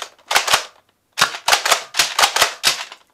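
A Buzz Bee Walking Dead M16 toy dart blaster fires in sharp, close, loud snapping pairs and short rapid bursts, with brief silent gaps between them and no talking.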